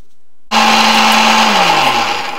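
An electric mixer grinder grinding coconut masala starts abruptly after a brief pause and runs with a loud, steady whirring that winds down slightly near the end, close up with no talk.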